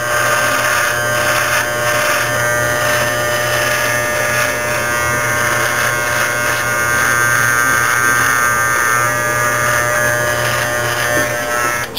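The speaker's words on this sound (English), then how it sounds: "Here's the Conair Pro Shaver. You notice I shave up against the grain" A Conair Pro Shaver electric shaver runs against the grain across a face, giving a loud, close, continuous buzzing whir that holds steady for the whole stretch, with no voices.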